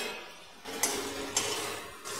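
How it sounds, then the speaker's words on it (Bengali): Jute leaves spread and stirred in a pan as their released water cooks off give a low, steady sizzle, with two soft clinks of a utensil against the pan, close and quiet. "শাকগুলোকে হালকা করে ছড়িয়ে দিচ্ছি যাতে জলটা টেনে যায়"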